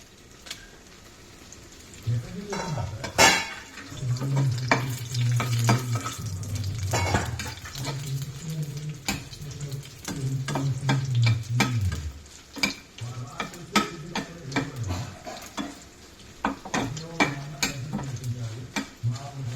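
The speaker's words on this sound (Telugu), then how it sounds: "కొంచెం ఎర్రగా వేయించుకోవాలండి." Fenugreek seeds, mustard seeds, coriander seeds and dried red chillies fry in a pan with a soft sizzle, while a spoon stirs and scrapes often with sharp clicks against the metal; the sizzle rises and falls throughout.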